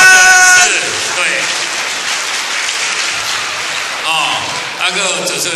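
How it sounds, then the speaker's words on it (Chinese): Applause from an audience at a festive dinner show, a loud, sustained wash of clapping and crowd noise lasting several seconds with voices mixed in. "掌声"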